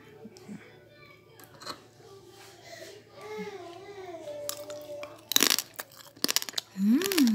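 Crispy roast lechon belly pork bitten into up close, a few sharp crunchy bites and crackles late on, following quiet talk and murmuring.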